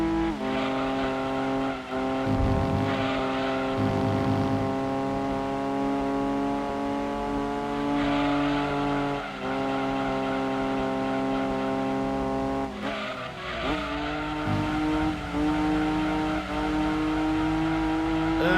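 Ford GT40 rated at 305 brake horsepower racing in Gran Turismo 2 on PS1, historic car cup event: a steady, loud droning engine note holds throughout, with revs shifting and brief dips near gear changes and a rougher scrape partway through.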